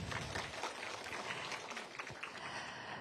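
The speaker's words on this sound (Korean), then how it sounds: "오늘 말씀 주신 이순영 교수님께 다시 한번 박수 부탁드리겠습니다" Audience at a community forum on renewable energy claps for a professor who has just spoken, a soft, fairly distant spatter of applause heard in a hall.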